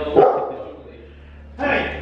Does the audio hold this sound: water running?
no